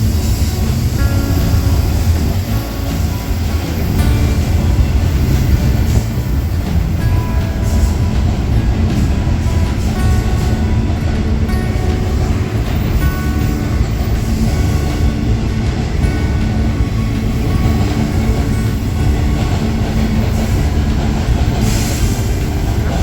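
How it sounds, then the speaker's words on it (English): Intermodal freight train hauled by a pair of Union Pacific GEVO locomotives, a loud, steady rumble of rolling cars and wheels passing close by for the whole stretch, with occasional wheel squeal and clacking over the rails. "Couldn't really get a glimpse of what was pulling this intermodal train. It looked like a couple of Union Pacific Gevos."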